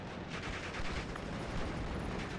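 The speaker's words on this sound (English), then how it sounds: "Panzer 4C going to be coming under fire from the Cromwell 6" Dense battle noise from the video game Steel Division: Normandy 44, with a Panzer 4C and a Cromwell trading tank fire amid a continuous rumbling wash of gunfire and explosions, moderately loud and without pause.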